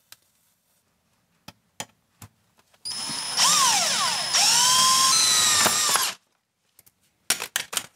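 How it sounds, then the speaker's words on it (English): A power driver whines for about three seconds as it sinks a self-drilling screw into thin kiln sheet metal, its pitch shifting under load, bracketed by scattered clicks and taps of handling. "So here I'm just using a screwdriver to cinch it down the rest of the way."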